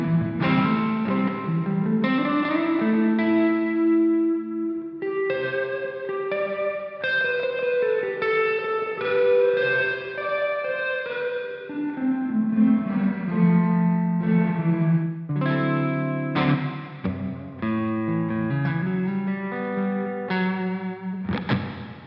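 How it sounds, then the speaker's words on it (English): Electric guitar through a REVV D20 amp and Two Notes Torpedo cabinet simulation, set to a cathedral reverb, plays sustained distorted notes and chords that ring on continuously, loud and washed in a large, echoing room sound with no talking. "it's what's called a cathedral setting, so you can get quite a epic reverb."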